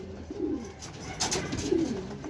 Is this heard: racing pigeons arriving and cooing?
yes